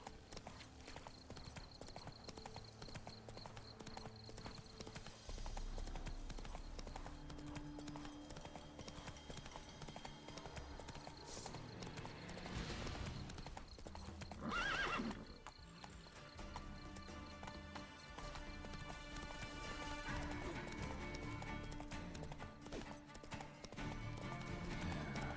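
Roach, the horse in The Witcher 3, gallops with loud, fast rhythmic hoofbeats throughout, a snort or whinny partway through, over game music.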